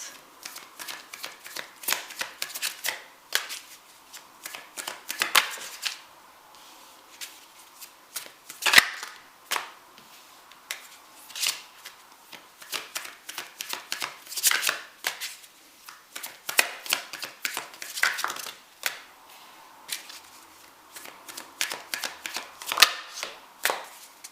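Tarot cards being shuffled up close: continuous rapid riffling and flicking in uneven bursts, with brief pauses and occasional sharper slaps of the deck.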